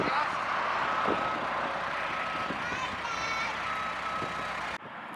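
A tractor reverses while pulling a wrecked classic Mercedes Unimog cab, its backup alarm beeping steadily over a rumbling diesel engine and mechanical clatter, until the sound cuts abruptly near the end.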